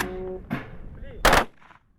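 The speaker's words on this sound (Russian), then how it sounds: "От нескончаемых когда-то выстрелов остались только традиционные залпы военных почестей" A ceremonial rifle volley for military honors at a reburial of soldiers' remains: two sharp outdoor reports, the first with a short echoing decay and the second louder, followed by fading reverberation.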